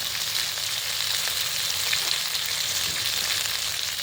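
A pan frying during preparation of a hilsa fish dish, an even, close, unbroken sizzle with no pauses or voices.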